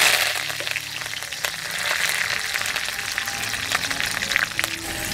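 Curry leaves sizzle in hot oil for a tadka, giving a dense crackling hiss with sharp little pops, steady and close throughout.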